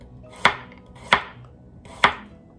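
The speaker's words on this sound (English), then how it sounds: "My carrot, sometimes I like to try to be a little fancy, even though I'm totally not. So I slice it on the angle a little bit." A knife slices through a carrot at an angle on a cutting board, three crisp, evenly spaced chops close by with quiet pauses between them and no voices.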